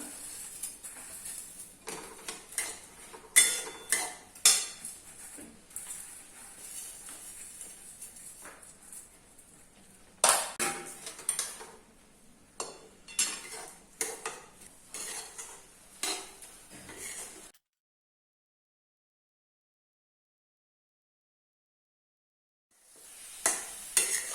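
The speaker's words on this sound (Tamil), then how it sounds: "இப்போ இந்த அவலை நம்ம கொஞ்சம் கொஞ்சமாக போட்டு நம்ம கிளறி கொடுத்துக்கலாம்." Flattened rice (aval) stirred in a pan, close dry scraping and rattling strokes in irregular bursts, with a spoon clinking against the metal, then a long silence before the stirring resumes.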